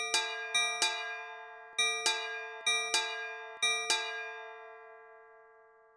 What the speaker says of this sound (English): A sudden drop in the atmospheric pressure triggers the bells.